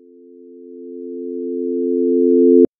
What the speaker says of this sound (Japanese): マイナス120デシベルからここに来ると0デシベルっていう風に、だんだん音量がフェードインしていくように、 音を作りました